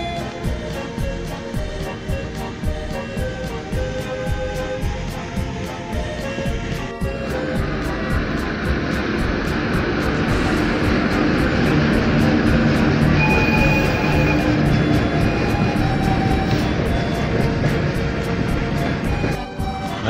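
A train rolls through a station on a line running toward Anapa, Novorossiysk and Crimea, with steady rhythmic wheel clacks over a continuous loud rumble that holds for the whole pass.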